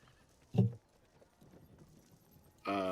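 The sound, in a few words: horses neighing and clip-clopping in stables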